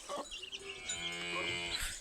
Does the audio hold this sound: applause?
no